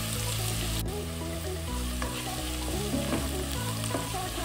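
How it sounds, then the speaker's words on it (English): Onions, celery, garlic and habanero sizzle steadily as they fry in a pot, with stirring scrapes and clinks throughout, close and fairly loud, no voices. "fry off the onions, celery, garlic, and habanero mixture"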